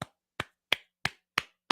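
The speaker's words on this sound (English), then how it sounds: "I'm applauding Tariq right now." Six sharp, evenly spaced hand claps, close and dry, about a third of a second apart with silence between.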